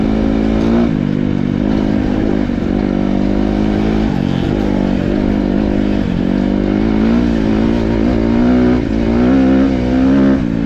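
Deep, throaty engine of a new 2026 Kawasaki KX 250 dirt bike revs loudly and continuously up close, its pitch rising and falling through throttle blips.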